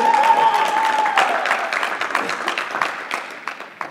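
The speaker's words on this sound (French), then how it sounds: "Est-ce qu'on peut acclamer pour Jessini aussi, qui sert dans la maison?" A church congregation breaks into loud, sustained clapping that fills the room and slowly thins out toward the end.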